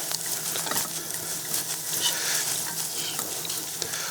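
Butter melting and sizzling in a non-stick pan on a stovetop while a cooking show prepares fried crawfish crab balls, with a steady bright crackle and hiss and light stirring scrapes.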